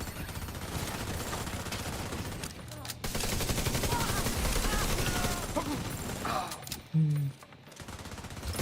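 Automated turrets firing in a video game, sustained rapid mechanical gunfire that runs almost continuously, fairly loud, with a brief pause and a few sharp clanks near the end.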